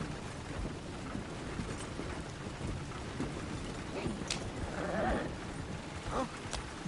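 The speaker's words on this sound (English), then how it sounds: "Look where you want to go and the horse will follow." Horse hooves clip-clop on a road in heavy rain in the video game Red Dead, with rumbling thunder and a brief whinny, all under a steady wash of rainfall.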